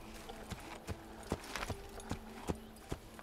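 Horse hooves clopping in the video game Assassin's Creed, a sequence of distinct, evenly spaced hoof strikes at a walking pace, fairly close but quiet over low ambient game sound.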